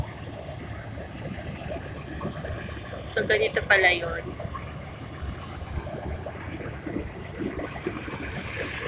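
Surf washing onto a sandy seashore near the Mall of Asia, a steady rush of waves and wind with a short burst of talk partway through.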